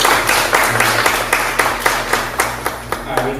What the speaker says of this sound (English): Give Alexis a round of applause.